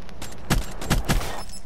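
Gunfire in Black Ops 3, three sharp gunshots in quick succession, close and loud, landing a headshot.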